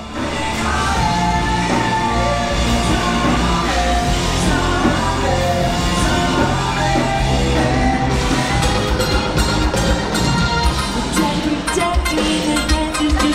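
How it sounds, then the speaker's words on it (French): A dense, loud wash of crowd noise fills an outdoor concert on Fremont Street in Las Vegas, with yells and shouts over music, continuous throughout. "Depuis notre chambre on entend crier, en fait il y a un concert."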